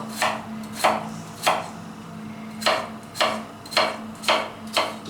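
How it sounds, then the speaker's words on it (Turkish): A knife chops potatoes on a cutting board, eight or so crisp, evenly spaced strikes, close up, with no talking. "patatesleri doğrayabilirsiniz"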